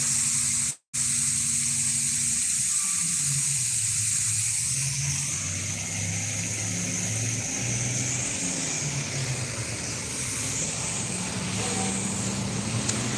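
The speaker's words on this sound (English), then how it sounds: "I would water my roses" A hose sprays water over roses in a garden early in the morning, giving a steady close hiss with a brief cut near the start, while low traffic or engine rumble rises and falls in the background.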